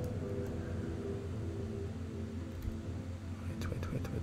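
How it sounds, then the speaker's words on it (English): Engine of a Hull C cargo ship in Star Citizen, a steady low droning hum with a layered rumble that runs unbroken throughout, fairly quiet and with no talk over it. "Do you hear the engine working?"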